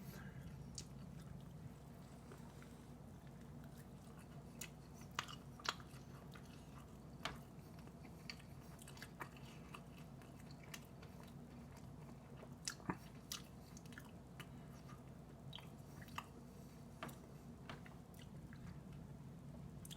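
Someone chews Carolina Reaper Blazin chicken wings with blue cheese close to the mic, making soft wet mastication and scattered crunchy bites over a quiet steady hum, with no speech.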